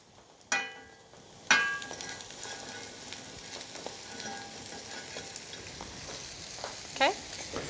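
Cooked potatoes tipped into a pan of Malaysian-Indian potato curry mixture, two sharp thuds and a burst of sizzling at the drop, then a steady low frying hiss with light scraping and a final clatter.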